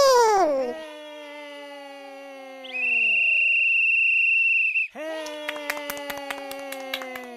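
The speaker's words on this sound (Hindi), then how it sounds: "और बंदर सीटी बजाकर शुरुआत करता है।" In a cartoon race between a hare and a tortoise, a monkey blows a whistle to start it: one shrill, sustained blast of about two seconds. Squeaky cartoon voice sounds come before and after it.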